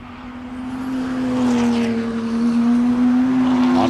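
A track mod race car laps Lime Rock Park, its engine holding a steady, loud tone that swells slightly as it draws nearer, with no one talking.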